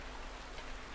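Rain falls in the farming game Farming Simulator 19, a soft, even wash of fine patter that stays steady and faint through a single second.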